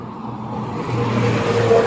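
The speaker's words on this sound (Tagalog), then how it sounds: "Tricycle yan eh." A motorized tricycle passes on a road in Pampanga, a steady engine whir and road noise that grows gradually louder as it approaches.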